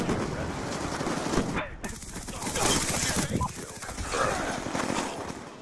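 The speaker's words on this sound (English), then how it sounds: "He shot me through the wall" Rapid bursts of automatic gunfire and shots in the shooter game Black Ops II crackle loudly and continuously, mixed with game effects and overlapping player voices.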